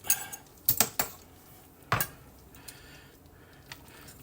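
Utensil scraping and clinking in a pan while parmesan is mixed into mushroom fettuccine with peas and carrots. A few sharp metallic knocks stand out, followed by quieter stirring, with no talk.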